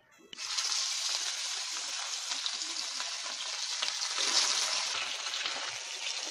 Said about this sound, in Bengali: মাছটা এবার তেলে আমরা ভেজে তুলে নিই